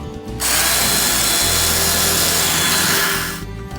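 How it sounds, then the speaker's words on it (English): A wire brush scrubbing rust off a metal piece before painting, loud continuous harsh rasping that runs for about three seconds, close up, with no talking. "I'll get some of the rust off with this wire brush"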